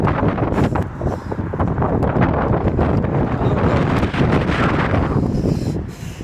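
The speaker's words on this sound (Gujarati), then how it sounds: "જોવો તમને આ વાવડાનો અવાજ સંભળાતો હશે" Cold winter wind blows hard outdoors, a loud, continuous roar and buffeting across the microphone that barely lets up for the whole stretch, with no voices.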